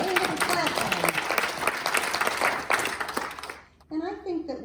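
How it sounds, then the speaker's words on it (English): A Sunday service congregation applauds, a dense round of clapping with voices mixed in that dies away, followed by a person speaking. "Yeah, everybody clap for him."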